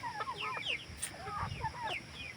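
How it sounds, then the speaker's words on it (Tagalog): Chickens on a small farm keeping breeds such as Rhode Island Red cluck in a quick series of close, sharp calls, with a brief louder squawk in the middle. "dami tayong manok dito guys"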